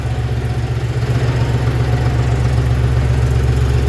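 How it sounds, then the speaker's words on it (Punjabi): A John Deere tractor engine idles steadily and close by after starting, a loud, even low rumble with a throbbing beat that holds throughout. No one speaks. "ਕਰਤਾ ਬਾਈ ਟਰੈਕਟਰ ਸਟਾਰਟ ਆ"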